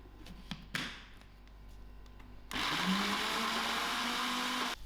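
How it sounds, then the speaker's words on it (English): A blender whirs through compound butter with half a cup of cheese, starting after a few small clicks and knocks, then running loud and steady to the end. "I'm also going to give this one final blend"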